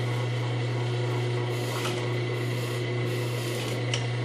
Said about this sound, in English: So very carefully, let's take a few back stitches.